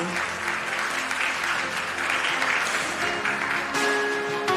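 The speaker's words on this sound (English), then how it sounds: "Let's give another big round of applause to welcome all our visiting guests on stage for the inauguration ceremony." A large audience applauds steadily at the inauguration ceremony of an international academicians' alliance in Hong Kong, welcoming guests on stage with a dense, even wash of clapping throughout.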